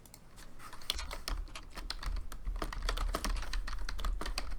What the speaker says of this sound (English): Oh, we're both typing.